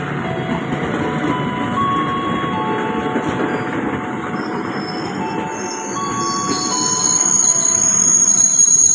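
A commuter train rolls into a station, its wheels squealing with thin high tones over a steady rumbling roar that grows louder toward the end.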